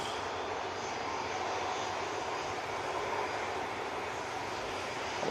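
Airplane jet engines at Manchester Airport roar in a loud, steady broadband rush as planes prepare to depart, holding constant throughout, with no voices.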